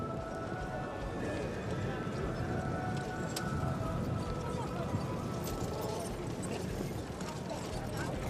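At a four-in-hand driving world championship cones event, a team of marathon horses pulls a carriage, with brisk, continuous hoofbeats over a soft surface and carriage rattle, as a commentator talks over it.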